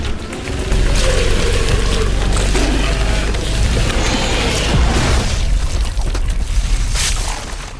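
Explosion in the action-horror film Underworld: Awakening: a loud, sustained roaring blast with heavy low-end rumble and crashing debris, lasting several seconds before trailing off, with no speech.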